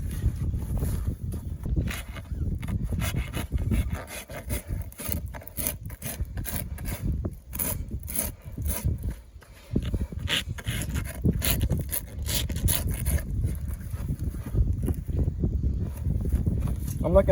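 Hooves are rasped during hoof trimming, with repeated rough, scraping strokes in an uneven rhythm, close and fairly low, continuing for the whole stretch with brief pauses between passes.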